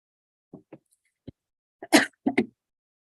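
A person with a leftover flu cough lets out a string of short, dry coughs, starting with small scattered ones and building to a louder harsh burst and a final double cough.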